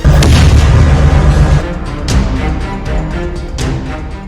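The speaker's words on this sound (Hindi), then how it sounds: "मिट्टी में मिला देने वाले रॉकेट को गाजा पर बिना निशाना साधे दाग दिया जा रहा है" Heavy booms from rockets fired on Gaza during the Israel–Hamas war, a loud rumbling blast followed by a series of sharp distant thuds and crackling bursts.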